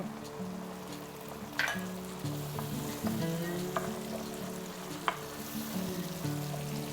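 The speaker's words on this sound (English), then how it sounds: "We're gonna add a tablespoon of fine Kentucky bourbon and soak these black-eyed peas with that." Black-eyed peas with a splash of Kentucky bourbon sizzling and frying in a pan, a steady close crackle with occasional stirring clinks and small pops throughout.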